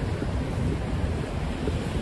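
Heavy wind rushes through a stormy night in New York City under a flash flood watch with heavy rain, a dense, steady roar that stays loud and unbroken with no voices.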